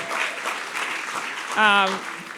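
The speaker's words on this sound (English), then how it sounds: "let's have another round of applause for the line." Soft audience applause at a fashion talk during New York Fashion Week, a light patter of clapping with a brief cheerful voice rising over it near the end.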